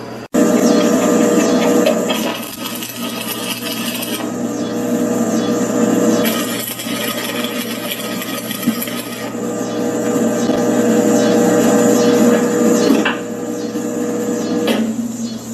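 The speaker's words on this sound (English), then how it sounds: "what I'm going to do is start welding the basic box" Cut 11-gauge (1/8-inch) steel pieces are welded into the box of a homemade Argentinian-style parrilla grill, giving a close, steady, harsh crackling hiss. The hiss runs in long passes with brief breaks, and no one speaks.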